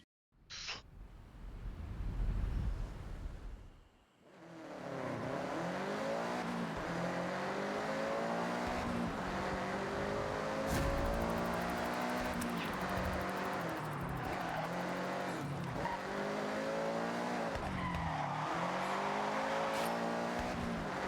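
Subaru in the Forza Horizon racing game, a brief burst of engine revving first, then a long sustained tire skid with a whining engine note as the tires warm up, loud and continuous.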